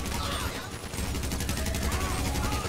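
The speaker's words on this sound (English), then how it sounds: "I ran and it made them start shooting." Gunfire in Grand Theft Auto 5 rattles in dense, continuous bursts, loud and close, with game sound filling the background throughout.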